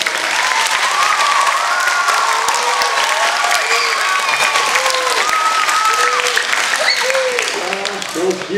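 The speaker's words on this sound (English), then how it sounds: "Can y'all cheer for her?" Children and adults at an elementary school recognition event cheer and applaud loudly and steadily for a young girl, with whoops and shouts riding over continuous clapping throughout.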